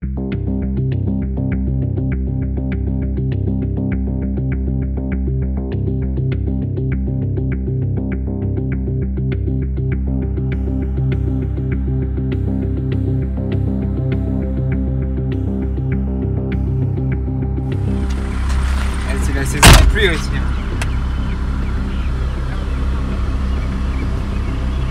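Car driving on public roads through a national park in Uganda, a steady low engine and road rumble with wind noise throughout, swelling into a brief louder rush and thump near the end.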